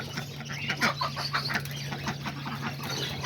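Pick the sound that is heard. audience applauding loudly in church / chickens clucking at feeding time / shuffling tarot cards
chickens clucking at feeding time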